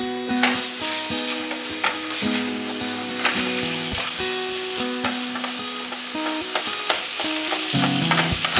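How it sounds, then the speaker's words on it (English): Shredded chicken for taquitos sizzles steadily in a hot pan while it is constantly broken up and tossed, with sharp clinks and scrapes of the utensil over the frying, and no talking. "Make sure you're constantly breaking it up and tossing it when you're frying it."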